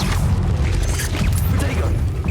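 Descendo spell cast in Hogwarts Legacy, a loud close magical burst with a deep rumbling boom and whooshing, crackling debris that spreads over two seconds.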